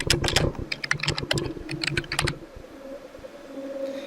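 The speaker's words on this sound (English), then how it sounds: "So now I start typing." Rapid bursts of keyboard typing, clicky and close, for about two and a half seconds, then a quieter low hum.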